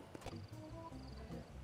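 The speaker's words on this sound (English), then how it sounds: "Come on, horse, you're coming into battle with me." A horse in the Red Dead Redemption video game, with steady hoof clip-clop under a soft musical backdrop and a possible faint whinny.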